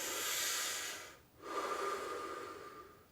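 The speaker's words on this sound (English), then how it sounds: "look up, breathing in through the mouth" A long audible breath drawn in and let out through the mouth during a relaxation exercise, breathy and close, with a short pause before a second airy breath.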